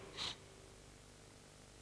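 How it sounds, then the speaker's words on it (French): A single quick, faint sniff cuts through a quiet room, followed by soft silence. "Qu'avez-vous à renifler?"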